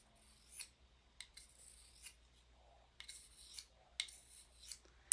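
A kitchen knife drawn across a sharpener in quiet, irregular strokes, several short scraping rasps spread over a few seconds, close by with no talking.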